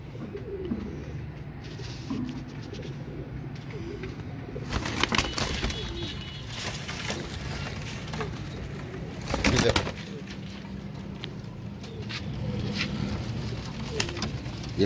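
Royal Teddy pigeons coo softly and repeatedly, with bursts of wing flapping and rustling among the birds nearby.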